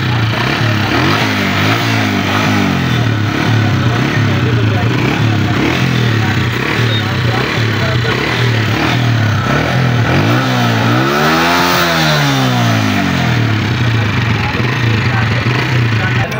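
A 2019 Honda CG125 motorcycle engine idles steadily and close, with a mechanical clatter and a short rev swelling around the middle.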